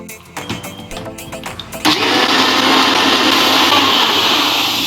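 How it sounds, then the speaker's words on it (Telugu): A few soft kitchen clatters, then a blender abruptly starts up and roars steadily, close and loud, as it purees mint, green chillies, salt and water. "కొంచెం వాటర్ వేసుకొని బ్లెండ్ చేసుకోవాలి."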